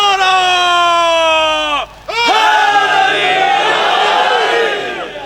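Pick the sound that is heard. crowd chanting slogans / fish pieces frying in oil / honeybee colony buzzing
crowd chanting slogans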